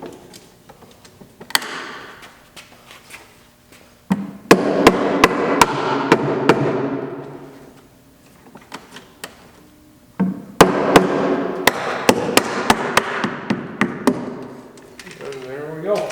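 A wooden gable on a galley storage unit is tapped into place with a hammer. Sharp knocks come in two clusters, some single and some in quick runs, with a voice talking in between.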